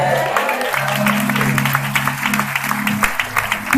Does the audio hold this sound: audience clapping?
yes